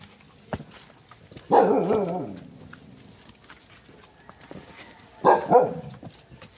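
A dog barks twice, a burst of rough barks, then another a few seconds later, against a quiet background with faint rustling.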